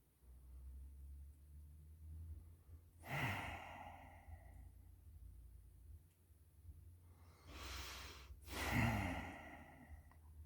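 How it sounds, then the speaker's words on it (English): Loud breaths close to a microphone, with two heavy exhalations around the third and eighth seconds over a low background hum. "Sorry for the loud breathing."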